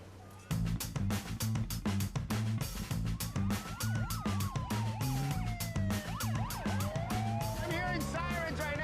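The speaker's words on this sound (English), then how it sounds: "I'm hearing sirens right now." Police sirens wailing and yelping in rising and falling sweeps as they escort cement trucks to a home construction site, with busy background music and activity underneath.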